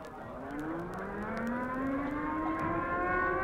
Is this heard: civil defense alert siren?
yes